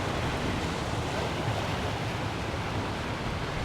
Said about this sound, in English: First time on the Indian Ocean, or any ocean.